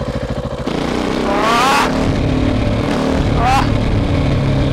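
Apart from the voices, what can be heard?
KTM SMC R 690 motorcycle with Leovince exhaust riding off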